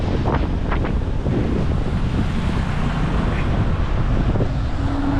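Strong wind buffets the microphone in a constant rough roar, with faint water and engine rumble beneath and no clear voices.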